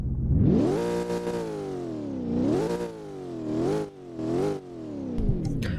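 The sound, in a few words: Hennessey Venom GT engine revving in Roblox video game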